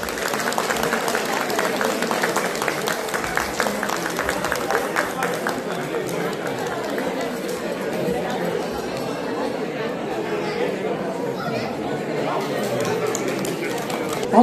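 Audience applause at a Dashain and Tihar community party lamp-lighting, a sustained dense clapping from a crowd filling the room, with chatter mixed in throughout.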